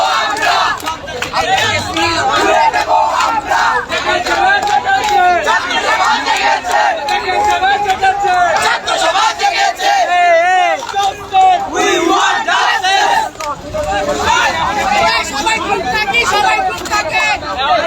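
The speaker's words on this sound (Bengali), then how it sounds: "শিক্ষার্থীরা এখানে জড়ো হয়েছেন এবং বিভিন্ন স্লোগান দিচ্ছেন তারা" Loud crowd of school students chanting slogans in unison at an outdoor protest near a residential hotel, rhythmic shouted calls rising and falling continuously with babble underneath.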